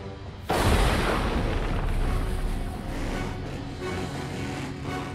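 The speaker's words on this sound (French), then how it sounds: "Cette explosion, c'est toi?" A loud explosion bursts in abruptly in a Hot Wheels monster truck cartoon, a broad booming blast that stays heavy and rumbling for several seconds with no speech over it.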